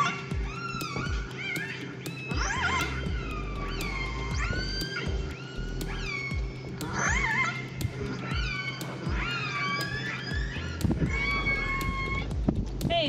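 Recorded orca calls from the A30 clan near Telegraph Cove: rising and falling whistles and squeals over a constant low hum, with frequent clicks, moderately loud and played back without talk.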